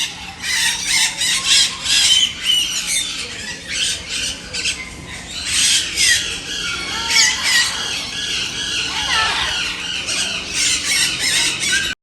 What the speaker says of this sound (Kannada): ಅಲ್ಲಿ ಬಣ್ಣ ಬಣ್ಣದ ಮಾತಾಡೋ ಗಿಳಿಗಳು ಇದ್ವು